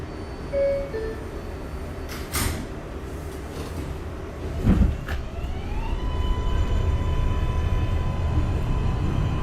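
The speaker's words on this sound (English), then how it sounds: "Stand clear of the closing doors," NYC Subway R142A train doors shut with a short thud and clunk in the OpenBVE simulator, then the train begins moving as a rising motor whine builds steadily underneath.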